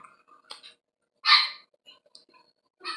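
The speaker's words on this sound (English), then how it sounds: "Sorry if you hear dogs. I have dogs." A dog gives a sharp, loud bark followed by a few quieter yips and another bark, with silence between.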